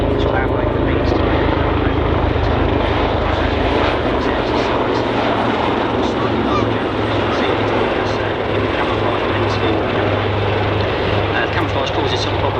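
Royal Navy Lynx and Wildcat helicopters in a flying display at Waddington Airshow: a loud, steady roar of rotors and engines fills the whole stretch, with a commentator talking over it.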